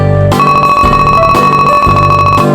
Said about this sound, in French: Il y a une cloche sur le comptoir. Bah, sonnez-le